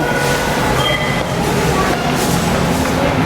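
Steady rumbling rattle of a Manila LRT light rail car in motion, loud and continuous, with faint murmuring voices beneath the noise.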